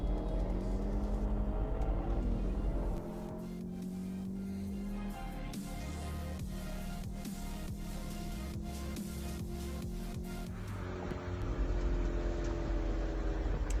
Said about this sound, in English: here's a little race against a Mk7 automatic.